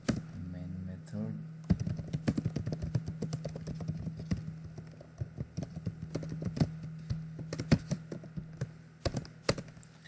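Java code being typed on a computer keyboard, heard as a steady run of close, crisp key clicks with irregular rhythm and occasional heavier taps, starting after a brief voice at the beginning.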